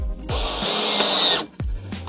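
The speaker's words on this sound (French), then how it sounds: "On peut dévisser pour replaquer, mais forcément ça demande plus de manipulation." A power drill backing a screw out of wood for a wooden log shelter, a short loud motor whine with a rising and falling spin-up and spin-down, close up.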